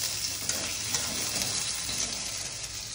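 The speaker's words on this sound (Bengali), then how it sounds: "আর এই মাছ ভাজা হচ্ছে। মাছগুলোর মধ্যে একটু জিরে গুঁড়ো, ধনে গুঁড়ো, লেবু সব কিছু দিয়েছি, দিয়ে তারপরে ভাজছি।" Bhetki fish seasoned with cumin, coriander and lemon frying in a pan, a close, even sizzle that runs without pause, with faint stirring and no voices.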